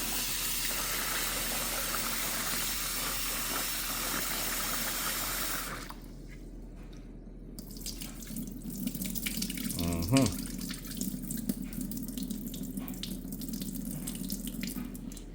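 Running tap water pours steadily into a sink as rice is rinsed, with a brief pause and some clattering handling noise as the flow changes partway through.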